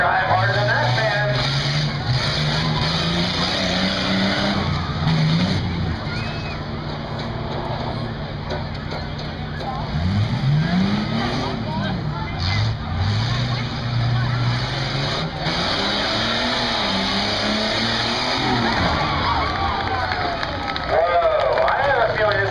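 A race car makes a run at Buck Motorsports Park, its engine tone climbing and falling over a steady crowd roar while people talk throughout.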